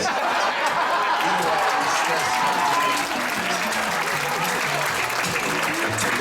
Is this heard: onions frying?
no